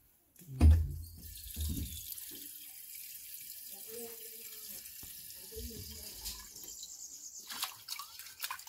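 Peeled food is rinsed under a running tap in a backyard kitchen in Jamaica, with splashing and trickling water after a couple of loud knocks and a voice speaking faintly in the background.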